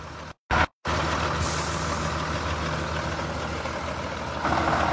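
A truck engine runs steadily with a deep, continuous rumble, close by, briefly cut out near the start and swelling slightly louder at the end, with no voices.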